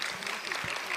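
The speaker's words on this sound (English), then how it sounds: "So a big round of applause for the panel" A burst of steady applause from a seated audience at a philanthropy panel discussion, filling the room evenly for a brief second.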